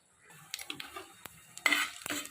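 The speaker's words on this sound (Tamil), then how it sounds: "கடுகு உளுத்தம் பருப்பு நல்லா பொரியட்டும்" Mustard seeds and urad dal pop and splutter in hot oil in a pan, scattered sharp crackles and a brief louder sizzle, close and fairly faint, no voices.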